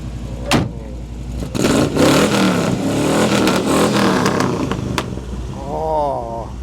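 A 1955 Chevy, an abandoned car given an engine swap, revs loudly up close, a rough rising roar with clattering pulses, while voices talk over and around it.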